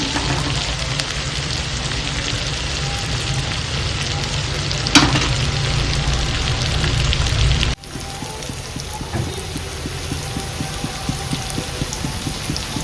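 Ginger-garlic paste goes into a pan of frying duck, giving a loud, continuous sizzle with faint stirring, a sharp burst as it lands and a quieter sizzle after.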